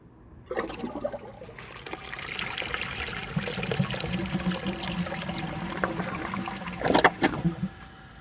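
A 2001 Eljer Canterbury toilet flushes close by, a gush of rushing water swelling into a sustained swirl and drain, then a final gurgling burst near the end.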